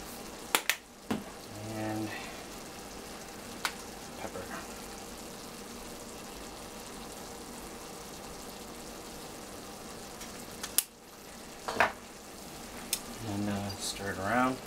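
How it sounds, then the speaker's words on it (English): Zucchini frying in a pan with black pepper and garlic salt, a steady soft sizzle throughout, broken by sharp clicks and scrapes of stirring utensils against the pan and faint voices in the background. "Stir it around."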